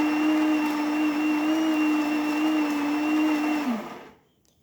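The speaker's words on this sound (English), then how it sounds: "Now grinding is going to move the brew position into a position to start brewing" A Saeco Gran Barista Avanti espresso machine grinds coffee with a loud, steady, close whirring drone that runs for several seconds, then winds down and stops.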